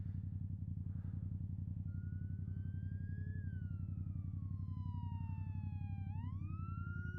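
A police car siren sweeps up and down in a wailing pitch as it passes, heard over the loud, steady engine drone of a nearby motorcycle-like vehicle with no talk.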